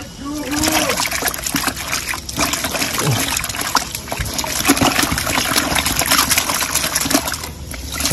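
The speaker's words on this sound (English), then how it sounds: "Let's go wash it in the bucket." Water splashes and trickles as a brick-work brush is swished around in a bucket, with a voice talking intermittently over the sloshing.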